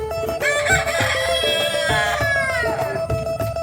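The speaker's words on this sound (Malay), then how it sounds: "Bapak dia besar ni. Ini jadi jantan sekor." Crowing of a rooster from a layer cross of LSS and BPR chickens, a long rising-and-falling call heard over steady farmyard background noise, loud and fairly close, with no talking.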